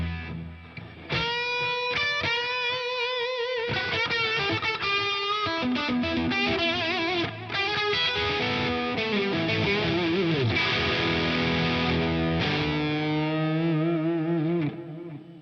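Electric guitar played through the GigFast iOS amp app with a synchronized delay effect, heavily distorted chords and lead lines ringing with repeating echoes, loud and continuous with no talking.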